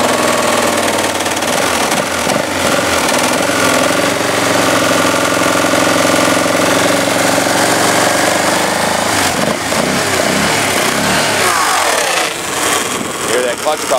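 A 1996 Polaris 425 Magnum 4x4 ATV engine idles loudly and close by, with a rattly, knocking clatter from the clutch cover and a brief throttle blip partway through.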